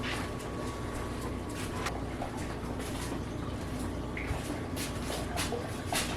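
Homegrown rabbit meat rinsed under running water, a steady, fairly quiet splashing and trickling stream with scattered drips, continuous for several seconds with no talk.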